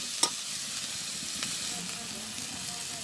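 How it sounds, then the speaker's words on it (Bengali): Salt, turmeric and dried chili paste fry in hot oil with a continuous soft sizzle, and a few light spoon clicks and stirring sounds come through close by. "মশলাটা সুন্দর করে কষাইয়া তারপরে দেবো টমেটো।"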